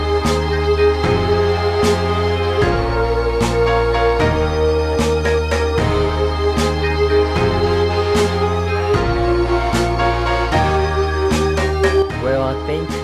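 A pitched-up 1970s soul sample built with stock Logic plugins, set around 76 BPM: a dense, loud, continuous groove of deep bass, chords and steady crisp drum hits running throughout without any voice.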